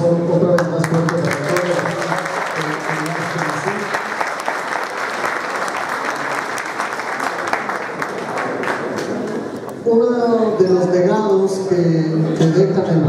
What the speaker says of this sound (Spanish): les pido un aplauso otra vez más fuerte.